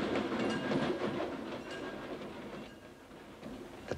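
A train, the Madrid Express in Spain, rumbles and clatters past in a steady, continuous wash of wheel and carriage noise, fairly loud throughout and easing slightly toward the end, with no voices.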